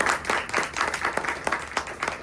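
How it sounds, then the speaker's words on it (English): Audience applause at a Hindustani classical music demonstration, a brief patter of scattered clapping from a small crowd, moderately quiet. "Another round of applause for them, please."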